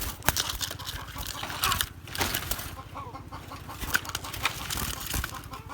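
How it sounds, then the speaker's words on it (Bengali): Two caged mynah birds flap and scuffle, producing repeated close wing beats and rustling bursts with sharp knocks against the cage and a few brief bird calls. "এই যে এটা হলো আর ময়না পাখি, দুইটারে এক কাছার মাঝে বন্ধ করবো"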